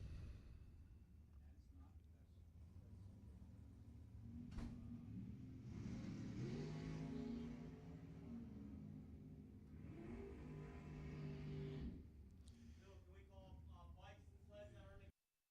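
A Mustang Fastback drag racing at a dragway, engine revving and accelerating at mid distance while an announcer talks over it.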